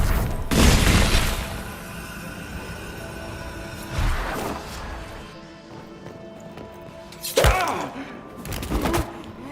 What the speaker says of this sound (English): hear like the loud explosions of fire